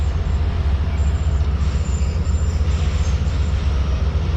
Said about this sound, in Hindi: तो तकरीबन 2 मिनट रुकने के बाद ट्रेन हमारे निकल रही है चीचावती रेलवे स्टेशन से।